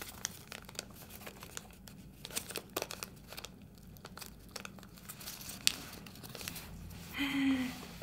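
Paper is folded and tucked for an origami Star Wars Luke Skywalker figure: soft crinkles and dry rustling taps, quiet and close, with no talk.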